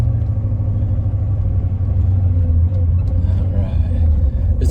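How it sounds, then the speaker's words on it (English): A 1980 Porsche 928 with a V8 engine and a throaty exhaust rumbles steadily while driving, a deep, loud, continuous drone with no pauses, and no one talks over it. "Love the sound of the V8 here. This one has a pretty throaty sound to it."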